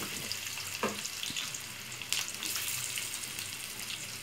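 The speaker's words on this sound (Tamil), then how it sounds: "கொஞ்சமாக ஆயில் விட்டு அதிலே நல்லா திருப்பி திருப்பி விட்டு நல்லா டீப் ஃப்ரை பண்ணிக்கோங்க" Cauliflower Manchurian (gobi) deep frying in a small amount of oil, giving a steady soft sizzle throughout with a couple of brief clinks of stirring and turning the pieces.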